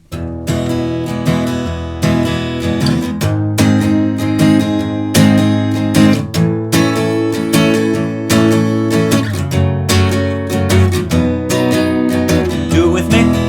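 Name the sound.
guitar strumming verse chord progression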